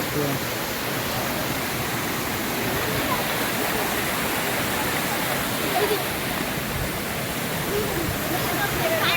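Seethar Kund waterfall at Kollengode pours in a dense, constant roar of falling water, loud and unbroken from start to finish, with bathers nearby.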